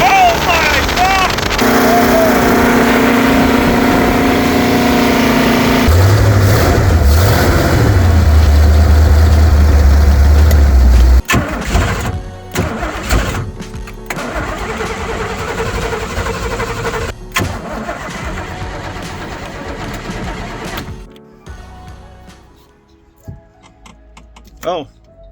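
A jet boat engine cranks, fires and is briefly throttled, then drops back to a rough idle and cuts out. The engine is loud and close, with people talking over it.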